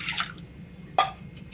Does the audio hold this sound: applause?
no